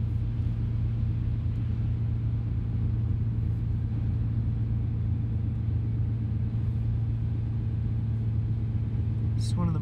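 Car engine humming steadily in second gear while cruising down Little Cottonwood Canyon, a constant close low drone with road rumble and no talking.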